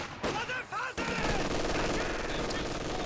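Machine gun fire rattles steadily in a Company of Heroes 2 3v3 match, a dense, continuous burst of shots that follows a brief human voice at the start.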